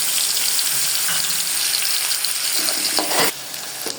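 Onions, garlic and ginger sizzle loudly in hot oil in a pan, a dense, continuous crackling hiss that persists throughout and eases slightly near the end.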